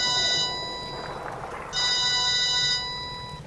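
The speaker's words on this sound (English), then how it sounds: "That's a phone!" A telephone rings in two bursts of electronic trilling separated by a short gap, loud and close, in the Bioshock Remastered game.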